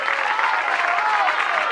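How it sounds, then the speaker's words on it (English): Crowd at a 1997 bowling finals cheering and applauding, a steady dense wash of clapping and voices throughout, fairly loud and continuous. "Crowd trying to get behind him, cheering him on."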